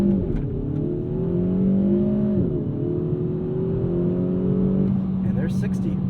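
Engine of a 2022 Kia Forte GT launching from a standstill in sport mode, a steady rising drone heard from inside the cabin with one brief gear-shift dip midway.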